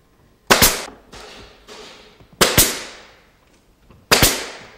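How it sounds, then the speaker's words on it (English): A brad nailer drives 1 1/4 inch brads into trim, firing three loud, sharp cracks a couple of seconds apart, each with quieter thuds and a short decay between shots. "we've got some 1 1/4" brads here that we're just going to shoot a few of them in."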